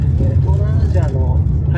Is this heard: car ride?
yes